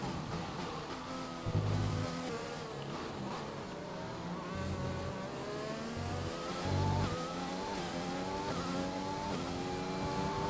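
Race cars in the F1 2020 video game during the French round, with engines revving up and down through gear changes in repeated rising whines that stay loud and close, and no voices.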